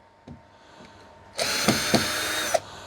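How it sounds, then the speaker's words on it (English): Power drill backing out screws along the front of a WES30 V2 machine: a loud sustained whir of about a second with short bursts, preceded by faint clicks, no talking. "Make sure the drill's going in the right direction."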